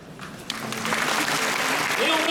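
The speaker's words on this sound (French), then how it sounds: "Et on applaudit très fort au cast de Gravity Rush" A cosplay contest audience at Japan Expo 2016 breaks into loud, sustained applause that swells steadily, with a voice speaking over the clapping.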